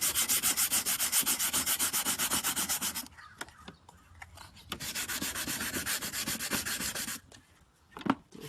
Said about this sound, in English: get your sandpaper and sand same locations where we're gonna put the window weld